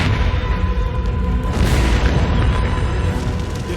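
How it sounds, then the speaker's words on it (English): A fuel vapor explosion touched off by a generator after stored fuel overflowed its tank, heard as a loud, sustained roaring boom and rumble that fills the clip with no pause. "The vapors ignite when they come in contact with a generator."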